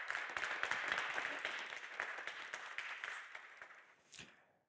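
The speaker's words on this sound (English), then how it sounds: "I think they deserve a warm round of applause" Warm applause from an audience welcoming a visiting delegation of experts, a dense, fairly faint patter of clapping that gradually thins and fades out over several seconds.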